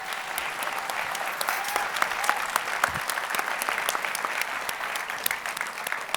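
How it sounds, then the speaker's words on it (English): Audience at a food festival applauding three chefs after an on-stage cooking demonstration, dense continuous clapping with a few sharp individual claps standing out over the crowd. "So let's give them a round of applause."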